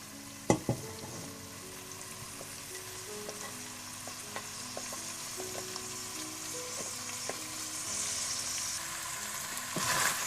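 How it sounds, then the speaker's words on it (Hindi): Green chilies and long-sliced onions frying in a pan with browned meat for bhindi gosht, a steady close sizzle with a few sharp clinks and stirring scrapes, and no voices. "अच्छी तरह भूनने के बाद आप इसमें हरी मिर्चें और लंबी कटी हुई प्याज भी डाल दें।"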